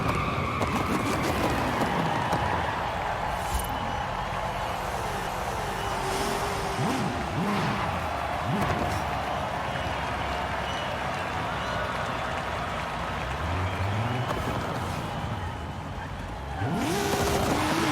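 A Nissan Silvia drag car in Forza Horizon 5 revs and accelerates hard, a loud continuous engine roar with rising and falling pitch sweeps throughout, likely with a brief tire squeal near the end.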